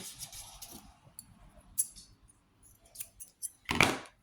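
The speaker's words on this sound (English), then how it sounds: "I'd cut this yarn." Scissors snipping yarn during a color change in a hand-knit blanket, a few quiet clicks and handling noises ending in a sharper close cut.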